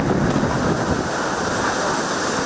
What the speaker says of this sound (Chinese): 马环村呢度大风又大浪，啲浪不断拍打上岸